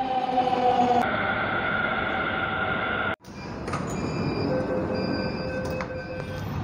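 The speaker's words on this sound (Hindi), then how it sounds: "तो मेट्रो आ गई हुई है" A metro train pulls into a station with a loud, continuous rumble and high wheel squeal, then a sudden cut and steady rolling noise with faint clatter as the cars move along.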